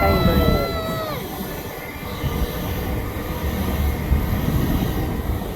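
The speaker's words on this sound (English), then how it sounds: "It's a 5-car train." A Greater Anglia five-car train passes near Enfield Lock station: wheel squeal rings out briefly at the start, then a loud, steady rumble of carriages rolls by.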